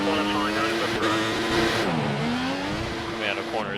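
A Formula 1 car at the Australian Grand Prix in F1 2014 revs hard on a rich fuel mixture, its high whining engine pitch climbing and dipping through gear changes, loud and continuous under a speaking voice.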